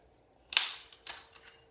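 Two sharp metallic clicks as the takedown pins are pushed out of a rifle's receiver, separating upper and lower, the first louder, the second about half a second later, close and alone in a quiet room.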